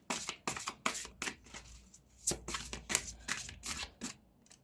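Oracle cards being shuffled and drawn by hand during a tarot-style reading: repeated crisp riffling and slapping bursts in a steady rhythm, close and clear, with no talking.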